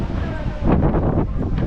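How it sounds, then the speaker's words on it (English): Wind buffeting a handheld microphone outdoors at a seaside amusement park in Hong Kong, low rumbling gusts that swell and ease over a couple of seconds. "ooh, it's windy"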